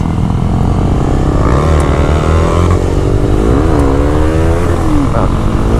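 A beginner motorcycle engine revs hard and loud up toward 8,000 to 9,000 RPM, its pitch sweeping up and down in a continuous close-up roar with no talk over it.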